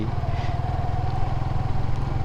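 A motorcycle engine thrums with a loud, steady low pulse close by, running continuously without clear revving or passing.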